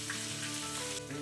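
Food frying in a pan while being stirred, a steady close sizzle with soft scraping and stirring under it. No one talks.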